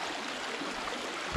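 Creek along the Caddo River flowing through trees, a steady soft broadband rush of moving water, fairly faint and continuous with no voices.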